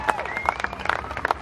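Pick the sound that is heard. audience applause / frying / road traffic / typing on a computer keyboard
audience applause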